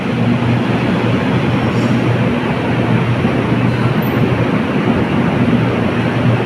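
Riding inside a moving train abroad, a loud constant rumble of wheels and carriage noise with a low steady hum throughout, no speech.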